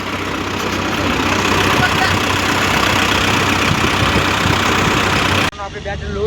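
A tractor engine idles loudly and steadily with a constant low rumble, then stops abruptly near the end, leaving quieter background sound.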